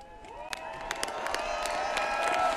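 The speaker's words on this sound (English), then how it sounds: "An appreciation from the crowd" A large outdoor crowd cheers, whoops and applauds on the Capitol lawn at a Michigan governor's inauguration, a steady roar of many voices with scattered claps and shouts building slightly over a few seconds.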